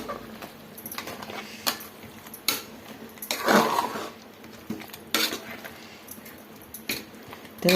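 A spoon stirs masala and mutton together in a metal pot, with repeated close scraping and clanking against the sides and a soft wet squish between strokes.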